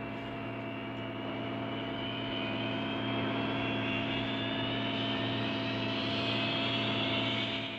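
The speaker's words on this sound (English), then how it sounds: "Airplane sounds." A Mellotron M4000D plays its airplane sound effect: a steady engine drone with a slowly rising whine, holding at an even level throughout.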